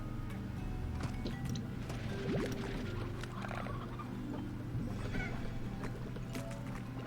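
Chickens from the Slime Rancher video game clucking and gobbling repeatedly at moderate volume amid a busy background of game ambience and scattered clicks.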